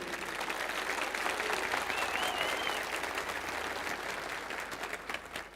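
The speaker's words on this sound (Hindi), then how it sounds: "अगर मैं सच बोल रहा हूं तो आपकी तालियां पहुंचनी चाहिए" A large audience at a patriotic Hindi poetry recital claps loudly and steadily for several seconds, a dense roar of hands that fades slightly at the end.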